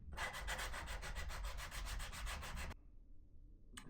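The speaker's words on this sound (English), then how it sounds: "Hand sanding." Hand sanding wood with 120 grit sandpaper: rapid, even back-and-forth rasping strokes, close and continuous for nearly three seconds, then stopping abruptly.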